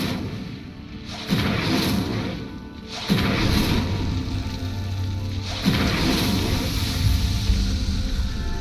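An Incendio fire spell lighting pyres in Hogwarts Legacy: a series of whooshing ignition bursts, three or four, each swelling into a roaring crackle of flame, loud and close with no voices.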